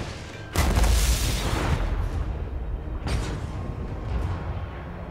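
Ship guns fire in a Total War: Warhammer 2 Vampire Coast sea battle: two heavy booms about two and a half seconds apart, each with a long rolling rumble over steady low background noise.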